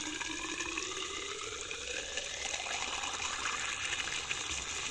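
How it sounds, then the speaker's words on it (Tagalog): Continuous gushing water pours steadily into a hole in soil, like a stream from a hose or tap, with no talking. "itong butas ay pupunuin natin ng tubig"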